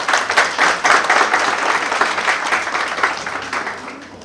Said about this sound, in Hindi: तो आप लोग इस इंडस्ट्री से तो अपने लिए जोरदार तालियां भी बजाएं।